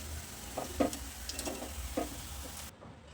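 Muthiya dough dumplings for churma ladoo frying in oil, a faint, quiet sizzle with a few soft clicks and spatters spread across a few seconds, no voices, cutting out near the end.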